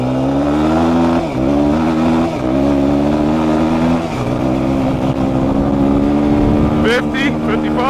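A Suzuki DRZ400E off-road motorcycle accelerates hard on a top speed run, its engine loud and close, climbing through several gears with brief dips at each shift, and wind noise rushing throughout.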